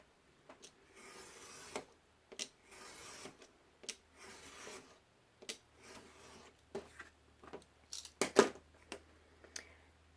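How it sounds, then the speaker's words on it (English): Craft knife scoring and then cutting book board along a ruler for double needle bookbinding: a series of short, quiet scraping strokes with pauses between them, up close and alone, with no talk. "score a line, and then switch to my ruler for cutting the rest."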